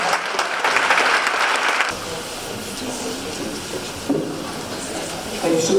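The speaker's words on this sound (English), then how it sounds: "Ladies and gentlemen, please give a big round of applause." Loud burst of audience applause at a youth assistance awards ceremony, dense clapping for about two seconds, then fading into a softer murmur of continued clapping and room noise.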